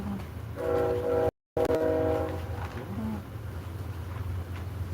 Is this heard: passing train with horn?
yes